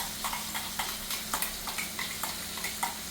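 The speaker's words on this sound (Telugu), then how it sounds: "పచ్చి వాసన పోయే వరకు చక్కగా మనం వేపుకోవాలి" Ground masala with onions frying in a pan until the raw smell goes, a soft sizzle under regular scraping strokes of a spatula, repeated in an even rhythm and heard close up but quiet, without talk.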